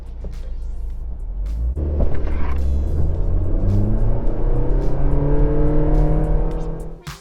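Suzuki Swift GL Max Edition hatchback accelerating hard from a standstill during a 0–100 km/h acceleration test, its engine note climbing steadily and staying loud and close throughout, with no talking.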